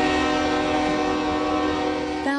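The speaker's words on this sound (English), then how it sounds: "the nation's 41st president was placed on a train marked 4141 for the 70-mile trip to his burial" Funeral train bearing President George H.W. Bush on its 70-mile run to burial at the Bush Presidential Library, its horn sounding a loud, sustained multi-tone chord that holds steady for over two seconds, then shifts pitch near the end.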